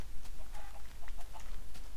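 Chickens in the video game Minecraft: several short, soft clucks scattered over two seconds, faint against a low steady background hum.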